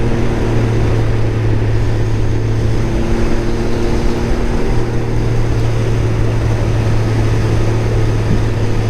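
A 2022 Can-Am Ryker 900 three-wheel motorcycle with a hood and fairings cruises along, its engine a steady, loud drone with a constant low hum and rushing wind throughout, no talking.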